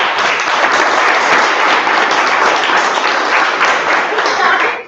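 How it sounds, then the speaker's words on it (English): Audience applause at a Toastmasters-style club meeting, a steady, dense burst of clapping from a room of people lasting nearly five seconds before trailing off at the end. "Can they have a huge round of applause?"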